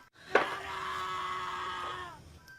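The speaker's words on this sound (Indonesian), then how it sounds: "mereka mendengar suara teriakan Radit yang berasal dari sebuah gubuk" A person screams from inside a hut in a horror film: one sustained, piercing cry lasting about two seconds, fairly close and heard alone before it cuts off.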